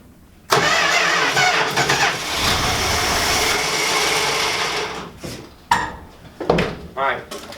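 A vintage truck engine cranks and catches on ether, bursting into a loud rough run for several seconds before sputtering and dying, followed by a few short cranking attempts and clatter.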